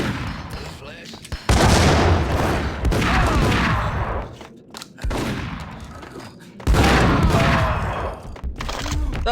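Grenade blasts and gunfire in Max Payne erupt in dense, booming bursts of explosions and rapid shots, loud and close with brief pauses between volleys, while a voice talks over parts of it.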